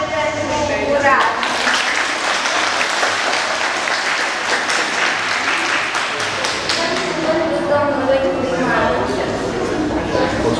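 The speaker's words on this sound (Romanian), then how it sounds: "aplauze pentru Ungurașul" A crowd applauds loudly and continuously, a dense wash of clapping filling the whole stretch, with some voices mixed in.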